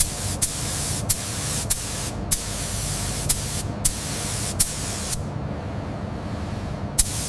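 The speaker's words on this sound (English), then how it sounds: "the abrasive media is forcefully propelled against the surface, removing contaminants and creating a uniform texture" Abrasive blasting of AK-47 gun parts, media driven hard against metal, giving a loud, continuous close hiss broken by regular sharp bursts about every half second to second, cutting out near the end before one last burst.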